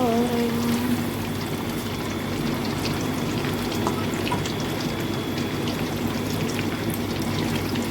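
Tofu fries in hot oil with a continuous, dense crackling sizzle, steady and close throughout, with no voices.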